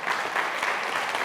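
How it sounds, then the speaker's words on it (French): Audience clapping steadily for a dancer at a 10 May commemoration in Toulon-sur-Arroux, a dense, even burst of hand claps with no voices. "Merci, on peut l'applaudir à Christiane Marteau."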